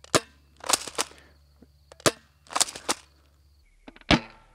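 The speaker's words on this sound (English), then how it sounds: "For the weak gun, I got the Walmart shotgun slash sniper because it looks like a shotgun" An airsoft spring shotgun fires at a block of ballistic gel, sharp snapping cracks in small clusters with quiet gaps between, close and crisp against a faint low hum.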